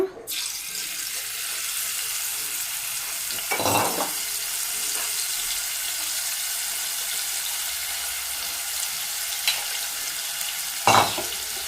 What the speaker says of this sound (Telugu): నూనె వేడెక్కిన తర్వాత మెత్తలు వేపేస్తున్నాను